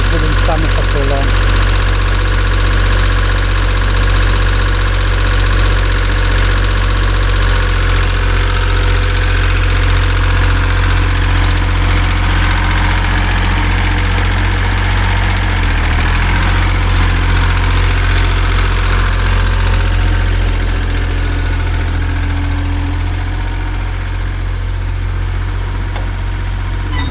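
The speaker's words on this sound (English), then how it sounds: "So I'm getting the green excavator fixed. So I've had the engine recon and new hydraulics" An old 3-ton green excavator with a reconditioned engine and new hydraulics runs steadily and loudly close by, a deep continuous idling rumble with knocking undertones throughout and a slight dip in intensity near the end.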